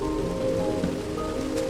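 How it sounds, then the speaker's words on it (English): Steady rain falls in a Minecraft-style video game, a continuous even patter with a low rumble beneath it and no voices. "We're staying out in this rain."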